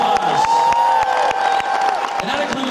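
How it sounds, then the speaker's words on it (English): A concert audience at a show in Wilkes-Barre, PA, applauds and cheers the crew, with steady clapping and whoops filling a large venue, while a voice carries over the crowd. "So please give every member of our crew a huge round of applause."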